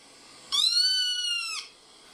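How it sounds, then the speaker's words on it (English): A kitten gives a single clear meow, a rising then sustained cry lasting about a second against near silence. "it's a kitten"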